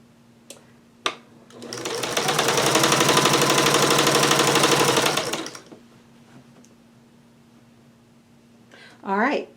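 A sewing machine runs in one sustained burst of about four seconds, stitching jellyroll quilt fabric strips at the quarter-inch presser-foot edge, a steady close mechanical whir with rapid needle rhythm, preceded by a couple of clicks and followed by a brief vocal sound.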